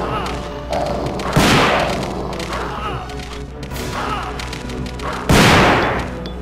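Several heavy shotgun blasts from a custom shotgun in Resident Evil 2, booming thuds spaced a few seconds apart, with faint game sounds between.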